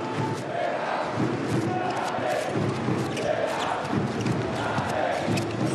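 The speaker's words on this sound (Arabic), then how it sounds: "هكذا تردد الجماهير الأهلاوية خلف هذه القلعة الحمراء" Al Ahly handball supporters chant in rhythm in an indoor arena during the IHF Men's Super Globe 2022 match against Kielce, a dense, loud crowd roar pulsing in repeated waves.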